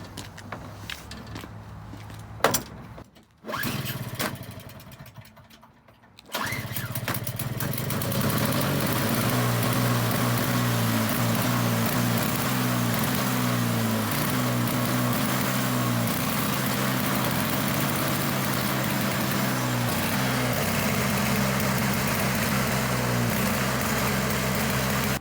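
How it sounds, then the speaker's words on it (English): A two-stroke snowblower engine sputters through a few cranking attempts, catches, then settles into a steady, loud idle that runs on without a break. "You know how to start a two-stroke snowblower, or for that matter, a two-stroke engine."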